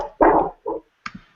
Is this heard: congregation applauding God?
no